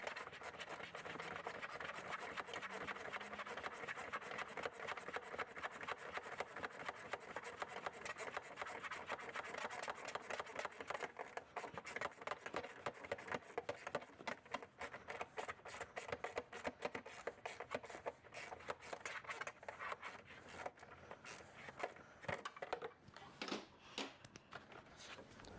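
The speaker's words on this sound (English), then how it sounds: "All three bolts in the fender are tightened up now." A hand wrench with a 5mm socket tightens fender bolts while a snorkel is fitted to a third-generation Toyota Tacoma, giving a long, faint, continuous run of rapid ratcheting clicks and scraping with no talking.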